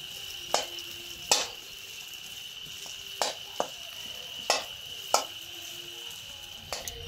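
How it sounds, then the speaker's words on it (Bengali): A spatula mashes a spiced potato filling for kachori in a pan, producing sharp, spaced knocks and scrapes against the metal over a steady high-pitched background hum, with no talk. "এবার আমি এই খুন্তি দিয়ে আলুটাকে ম্যাশ করে নেব"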